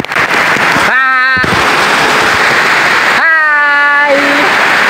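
Steady, dense hiss of heavy rain pouring down, with voices briefly chanting or singing in tones over the downpour.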